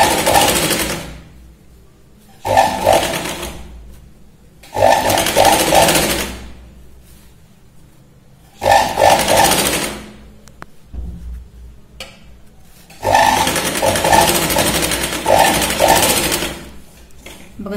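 A sewing machine stitches a blouse shoulder seam in four loud bursts of rapid, rattling needle clatter, separated by short quiet pauses and heard up close.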